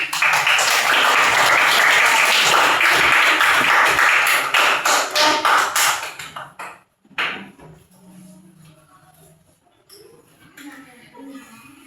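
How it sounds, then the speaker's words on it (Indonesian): Classroom applause from a group of students, dense clapping for about six seconds before breaking off into scattered claps and quiet room noise, with speech taking over. "mari kita tepuk tangan"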